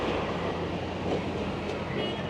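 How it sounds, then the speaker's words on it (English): A Toronto subway train crawls slowly along exposed outdoor tracks, giving a continuous, fairly loud rumble and rattle of wheels on rail that holds steady throughout, with no talking. "The trains tend to crawl through this area"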